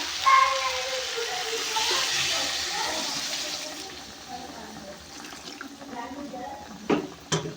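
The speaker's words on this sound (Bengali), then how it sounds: "একদম হালকা পরিমাণে একটু জল দিয়ে দেবো" A small splash of water poured into a pan of fish and mixed-vegetable curry, a soft hissing pour at first, then fading into quieter kitchen noise with a couple of sharp clinks near the end.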